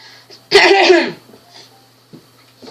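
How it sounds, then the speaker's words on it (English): A single harsh throat clearing, close and loud, lasting about half a second, followed by quiet room tone with a faint click. "I just need to clear my throat sometimes"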